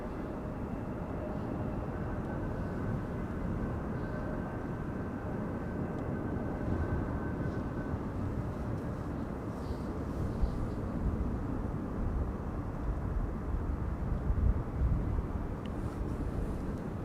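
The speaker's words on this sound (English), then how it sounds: "This Embraer 175 has been flying for an hour and 55 minutes." A KLM Embraer 175 arriving at Amsterdam Schiphol in windy weather produces a continuous low jet rumble, moderately distant and steady, mixed with broadband wind noise.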